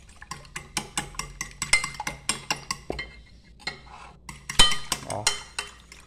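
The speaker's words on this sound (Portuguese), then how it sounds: "mexi os dois ovos aqui" Two eggs beaten by hand for tartar sauce, a quick run of regular light clicks of a utensil striking a bowl, pausing briefly midway before resuming in the same brisk rhythm.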